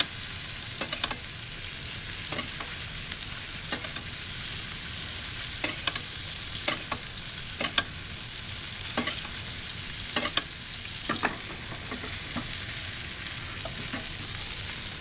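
Steaks sear in a pan with garlic butter in a steady, loud sizzle, broken by regular crackles and spatters throughout, with no talking.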